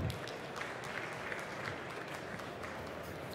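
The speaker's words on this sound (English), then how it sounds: "give a huge round of applause for Ida" Steady audience applause fills a hall at the Slush 2023 startup pitch semifinals, a dense, even wash of clapping held at moderate volume throughout.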